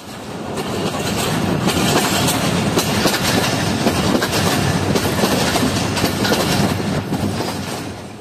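The Jaffer Express, 40 Down, runs on its rails past Shikarpur on a winter journey, giving a loud, steady rumble and clatter of wheels and carriages that fills the whole stretch without a break and with no voices.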